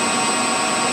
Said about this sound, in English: start the spindle at 1200 RPM, you can see that currently it's running at 1204 RPM